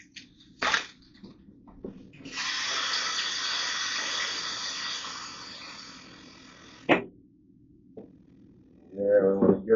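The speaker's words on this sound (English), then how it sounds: "let me go ahead and wash a few, even though these are saying they're pre-washed" Kitchen tap water running steadily into a sink while beef shanks are washed, a continuous close hiss lasting several seconds between short clunks and handling sounds, with brief voice near the end.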